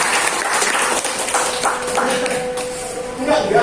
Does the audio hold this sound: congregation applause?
yes